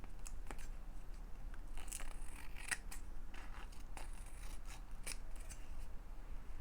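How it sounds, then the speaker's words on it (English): Scissors snip steadily through quality junk-journal paper in a string of crisp, close cuts over a soft background hiss. "You can just tell a quality paper often when you cut it."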